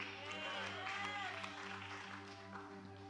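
An audience claps faintly and steadily in a hall for a few seconds, the soft patter sitting at a distance under a low, constant hum with some voices mixed in.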